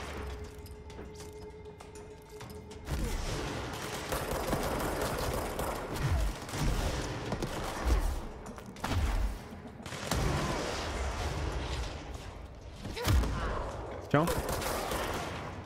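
Bursts of gunfire and explosive thumps from the video game Control, with several sharp shots and a rocket-launcher style blast over a steady noisy background, loud and close.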